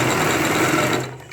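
A sewing machine runs steadily while stitching a seam on a ladies' pant, set with about 1.25 inches of fabric allowance. It is close and continuous, then eases off in the final moments.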